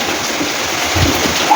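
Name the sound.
heavy rain falling with light wind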